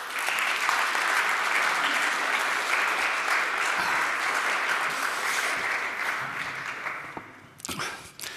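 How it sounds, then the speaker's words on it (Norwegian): Sustained audience applause at a Norwegian vulnerability conference, a dense, steady wash of many hands clapping for several seconds that thins and fades near the end, leaving a few scattered claps. "ta godt imot med en stor applaus"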